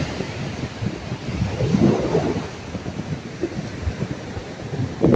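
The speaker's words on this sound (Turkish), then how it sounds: "Dalga buraya kadar geldi." Sea waves break on Davutlar beach in a steady low roar of surf with strong wind rumble against the microphone, loud and continuous, with no talk.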